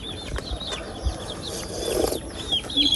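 Hens cluck and chatter in a busy farmyard, with scattered higher bird calls and soft rustling throughout.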